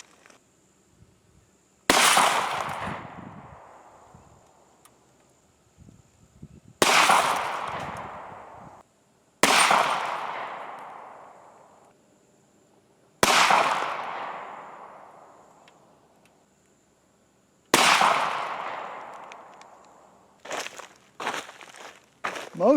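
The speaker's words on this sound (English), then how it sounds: "Now we'll see how 5 rounds do against the laptop." Five loud pistol shots from a Ruger MAX 9 fired into a laptop, each a sharp crack with a long ringing decay, spaced a few seconds apart, followed by a short burst of smaller knocks and clatter.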